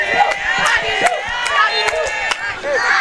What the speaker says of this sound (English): And her fans cheering her